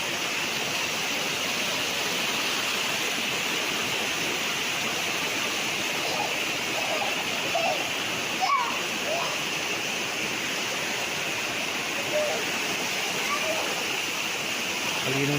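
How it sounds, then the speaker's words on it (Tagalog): Natural spring water on a farm lot in Lucban, Quezon flows in a steady, close, broadband rush, with faint voices briefly audible beneath the continuous water noise. "Ito yung bukal"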